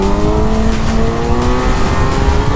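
A 2014 Kawasaki Versys 1000 touring motorcycle accelerating in third gear, its engine note loud and close with a steady, gradually rising whine and a rough low rumble throughout.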